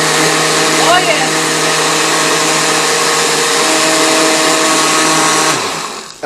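A blender mixing pumpkin pudding runs as a loud, steady close motor whine for several seconds, briefly overlapped by a voice, then winds down near the end.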